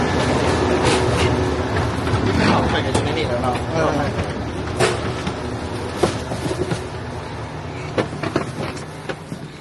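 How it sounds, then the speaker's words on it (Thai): An overnight express train from Bangkok to Udon Thani pulls into a station at night, rumbling and clattering steadily with clicks and thumps, while people talk nearby. "ทุกคนรถไฟมาแล้ว"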